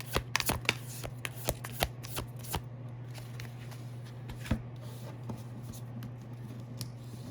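Tarot cards being shuffled and drawn for a reading, with a burst of quick, close riffling flicks early on, then sparser single snaps and slides over a steady low hum.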